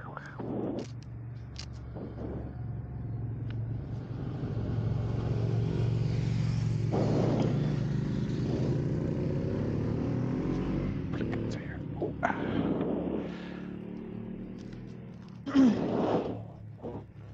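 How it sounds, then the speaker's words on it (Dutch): A car comes up from behind and passes, its road and engine noise swelling for several seconds and then fading. People talk quietly around it. "Auto achter."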